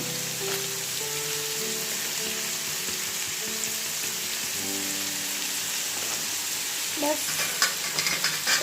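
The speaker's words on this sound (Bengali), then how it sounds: "ভাজিটা একটু নেড়ে দিচ্ছি" Papaya bhaji being stirred in a frying pan with salt and turmeric, a steady close sizzle with soft scraping stirs throughout and a few louder clatters near the end, no talking.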